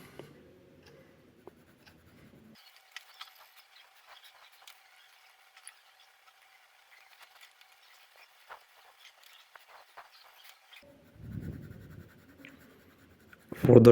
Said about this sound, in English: we shade it with the pencil